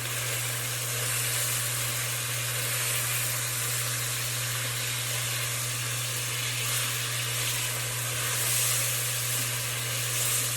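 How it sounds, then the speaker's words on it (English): Yakhni pulao masala sizzles and fries steadily in a pan as it is mixed, a constant close hiss with a low hum beneath and no talking. "I'm gonna just mix the masala."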